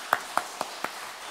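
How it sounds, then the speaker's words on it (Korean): Four sharp hand claps at an even, quick pace ring out in a church service, fairly close and with no talking, the start of a congregation applauding. "잘했다, 박수 한번 하겠습니다"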